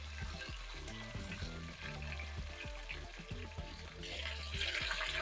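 Four beef short ribs sear in a pan with a steady broadband sizzle, a faint low hum and occasional clinks as they are moved around, the frying growing brighter toward the end.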